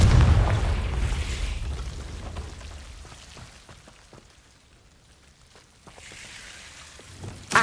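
A Confringo blasting spell from Hogwarts Legacy goes off with a loud booming burst at the start, then a rumbling tail and scattered crackling debris that fade, before a second swell and a sharp hit near the end.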